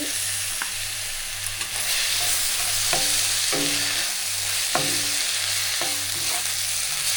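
Ginger garlic paste frying with tomatoes in a pan for a prawn gravy, a loud continuous sizzle close by with repeated spatula stirring strokes and scrapes at a steady pace, no voices.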